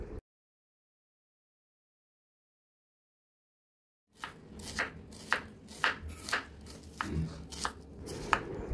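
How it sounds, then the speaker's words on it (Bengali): A knife chops chicken into small pieces for momo stuffing; after about four seconds of silence, quick, close, sharp chops follow one after another in an uneven rhythm. "এটাকে হচ্ছে ছুরি করে ছোটো ছোটো করে কেটে নিচ্ছি"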